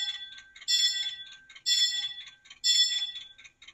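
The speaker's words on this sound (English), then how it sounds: "this is the factory setting F1 bell" A DCC sound decoder in a PIKO N-scale Whitcomb 65-ton diesel locomotive plays its bell: three evenly spaced metallic clangs about a second apart, each ringing and fading, clear and close with a faint steady tone beneath.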